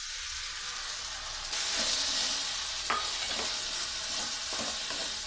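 Onion, tomato and freshly ground masala fry in oil in a pan for curry-leaf chitranna, a steady loud sizzle and hiss with occasional spoon scrapes as the mixture is stirred, growing slightly louder partway through.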